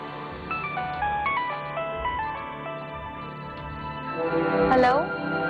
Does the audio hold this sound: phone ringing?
yes